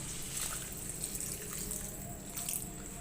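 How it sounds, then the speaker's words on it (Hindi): A cup of water poured into a pot of boiled chana dal cooking with masala gives a brief, fairly quiet splashing trickle with some dripping. "अब हम पानी ऐड करेंगे 1 कप"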